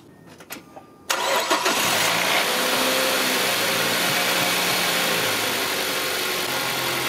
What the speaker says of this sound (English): let's start the car and see if there's still more leak.